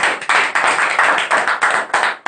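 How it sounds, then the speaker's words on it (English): A small audience at a spoken English class event claps for a performer in a room. The clapping comes in loud, close, evenly spaced bursts with no talk over it. "Please clap for him."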